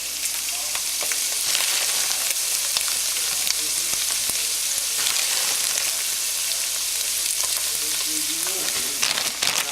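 Ground meat and peas for a shepherd's pie fry in a pan with a dense, constant close sizzle, broken by occasional clicks and scrapes from stirring.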